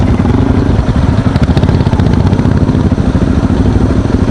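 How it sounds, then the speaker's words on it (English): An old vintage Yamaha motorcycle on a rural rally route roars very loud and close, its engine a dense steady rumble throughout. "It was an old vintage bike, that."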